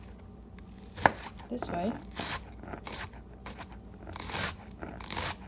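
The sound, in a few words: knife chopping onion on cutting board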